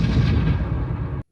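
A simulated explosion in a virtual reality treatment program for PTSD makes a loud, deep, rumbling roar that holds for just over a second, then cuts off abruptly.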